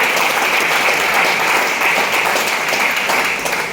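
Dense, steady applause from an audience cheering achievers at a business meeting, loud and continuous throughout with no pauses.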